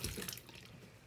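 Running tap water splashes over hands at a sink, a steady close wash with brief louder splashes at the start, heard alone.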